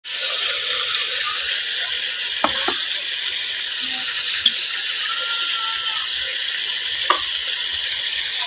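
Bay leaves sizzle steadily in hot oil, a constant close hiss with a few faint clinks and taps from the pan.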